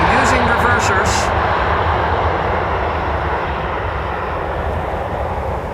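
A Boeing 737 landing at Amsterdam Schiphol roars loudly with thrust reversers engaged, a broad, sustained rush that fades slowly, while voices talk over the noise.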